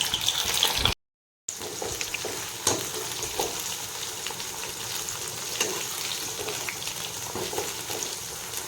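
Sweet corn kernels coated in cornflour and maida frying in hot oil for crispy corn, a dense steady sizzle close up with occasional stirring scrapes, briefly cut out near the start, no one speaking.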